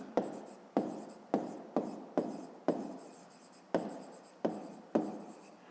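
Handwriting on paper during a fifth-grade math exercise: nine crisp, evenly spaced pen strokes sounding close and clear, each a brief scratch, with no one talking.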